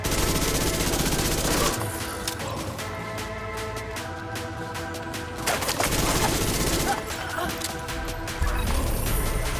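Rapid automatic turret gunfire in The Division 2 video game, loud continuous bursts of shots with a short lull between volleys, over game sound effects.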